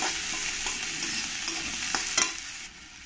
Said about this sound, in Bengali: দিয়ে আমি পেঁয়াজগুলো লাল লাল করে ভেজে নেব।